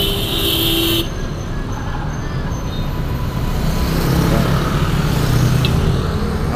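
A Sinar Jaya coach bus pulls into its pool at Lebak Bulus, a steady close diesel rumble with road traffic around it and a brief high tone near the start.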